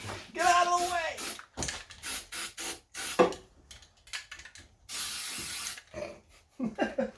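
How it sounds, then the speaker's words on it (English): An aerosol spray can hisses in a steady burst inside a car engine bay of an AE86 with a swapped Honda K24, under lively talk among several people before and after the spray. "You're just spraying it like that's"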